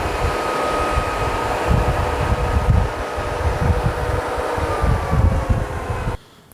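A thickness planer runs with a steady, loud mechanical roar and whine, the motor humming continuously before cutting off abruptly near the end.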